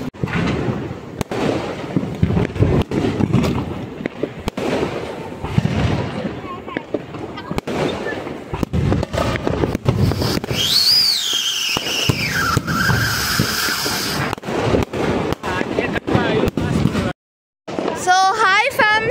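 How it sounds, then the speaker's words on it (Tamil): Diwali firecrackers crack and pop repeatedly amid busy noise, with whistling, screeching rockets rising and people talking throughout. "அது வந்து பட்டாசு வெடிக்கிறதுனால காதை மூடிட்டு சவுண்டெல்லாம் கேட்குது"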